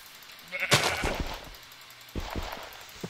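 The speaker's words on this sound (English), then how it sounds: "Die, sheep, die." Sheep bleating in the Minecraft video game, a short sharp bleat followed by a few quieter game sound effects and clicks, close and moderately loud.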